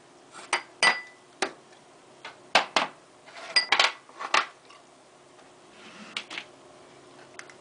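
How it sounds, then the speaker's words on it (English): Cream puff batter being spooned onto metal cookie pans, giving a series of close, sharp metallic clinks and taps in an irregular rhythm, then quieter scraping near the end. "You drop by large teaspoonfuls onto the pan, like so."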